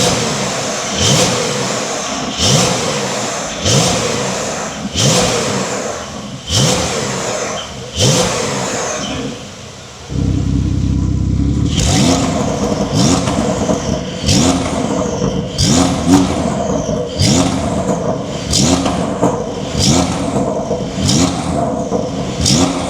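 A Porsche 992 GTS engine with sports catalytic converters and its exhaust valve open revs hard again and again in quick blips, loud and close, then settles into a deeper, rumbling run of repeated revs.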